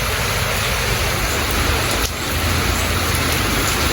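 Steady rain pours down at the Chattel Village in Holetown, Barbados, a dense, loud hiss filling the whole stretch without a break, with a faint low rumble beneath it.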